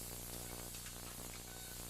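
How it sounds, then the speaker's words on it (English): Cooking spray greasing a baking pan for prune bars: a steady, close aerosol hiss lasting about two seconds over a faint low hum. "I'm going to grease my pan. I'm going to spray it like this."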